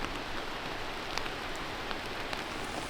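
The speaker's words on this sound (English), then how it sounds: "The rain's really starting to come down." Heavy rain falls at Aoiike pond, a steady close hiss of drops on surfaces with scattered sharper drip ticks, no voices.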